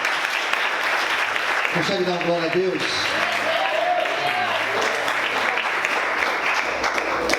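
A church congregation at a Sunday morning service applauds steadily and densely from start to finish, and a voice speaks briefly over the clapping near the middle.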